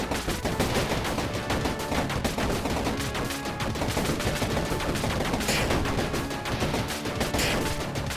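Relentless rapid-fire shooting in the arcade-style video game Overpowered (Mars Infestation), loud and dense bursts layered over game music with no pauses.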